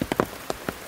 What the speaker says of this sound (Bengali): রাত থেকে বৃষ্টি হচ্ছে